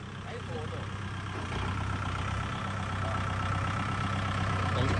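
A farm tractor's engine idles with a steady low rumble while it pulls a six-wheel truck stuck in the mud, the drone holding constant and growing slightly louder toward the end, with speech picked up as well.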